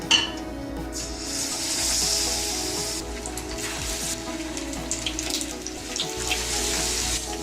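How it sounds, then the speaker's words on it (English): Batter-coated fish pieces, Hyderabad-style Apollo fish, fry in hot oil with a steady, loud, close hiss and sizzle that runs throughout, dotted with small crackling pops and no voices. "Now we'll dip the fish pieces into the batter and coat them really well. And drop it into the oil."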